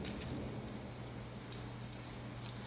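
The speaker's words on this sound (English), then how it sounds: "I don't know about the hail, but I'll take the rain." Light rain falls outdoors during a stormy evening, a steady soft hiss with scattered drips and occasional sharper taps, with no voices.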